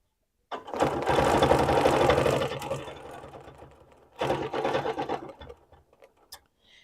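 A quilting sewing machine stitches circles against a ruler in two bursts, a long steady run then a shorter one, ending with a few soft clicks and quiet.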